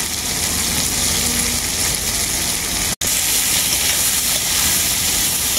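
Shredded cabbage with yardlong beans and capsicum frying together for egg chow mein gives a dense, continuous hiss and sizzle, loud and close throughout.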